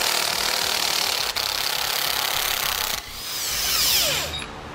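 A power tool with a 17 mm socket whirs loudly and steadily as it removes the tow hook bolts on a 2014 Toyota, then winds up and spins down at the end.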